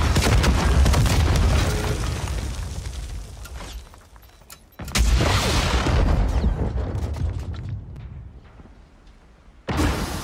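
Deep booming explosions from demolition charges in Modern Warfare 3 multiplayer, with one heavy rumbling blast fading out, then a sudden second loud boom, and a third sharp burst near the end.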